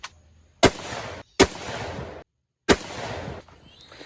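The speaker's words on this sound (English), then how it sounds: "We'll be doing a 3 shots at the 25, and then 3 shots at the 100 using iron sights." Three sharp rifle shots ring out, fired with iron sights at 25 yards from an old rifle with a cold barrel, each a loud crack followed by a rolling echo, spaced unevenly over a few seconds.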